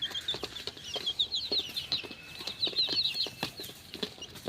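Young chicks about a month old, let loose to roam, make a busy mix of high chirps and clucks with some wing flapping, steady and fairly close, with no talk.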